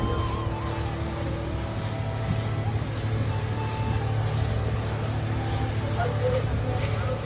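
A motorboat engine drones steadily on the water near Digha, a constant low rumble with soft water wash, while voices murmur faintly in the background.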